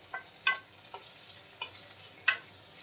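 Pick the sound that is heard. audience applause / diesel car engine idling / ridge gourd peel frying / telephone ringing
ridge gourd peel frying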